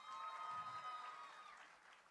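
An audience at an award recognition rally applauds, a faint, distant wash of clapping that holds steady and then tapers slightly.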